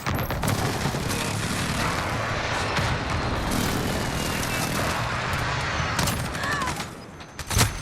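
Heavy explosions and gunfire roar almost continuously from a precision airstrike in Call of Duty Modern Warfare, loud and dense, easing briefly near the end before another blast.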